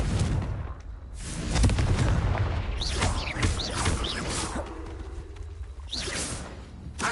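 A fiery Confringo blast spell from a Hogwarts wizarding video game, a loud whooshing boom with crackling bursts and whistling streaks, followed by more rumbling magical impacts throughout.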